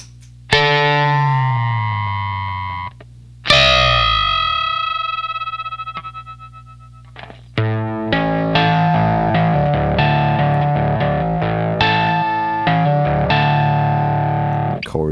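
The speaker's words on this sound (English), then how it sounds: "But with the Johnny Octave, all kinds of strange things happen." Guitar double stops fed through a Zvex Johnny Octave pedal, ringing two-note shapes that give way to a dense warbling, chorus-like smear of tones, loud and close with no talking.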